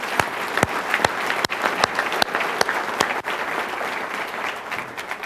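Audience applause fills a hall at a governor's speech, a steady spread of clapping with a few sharp louder claps standing out, no talk over it.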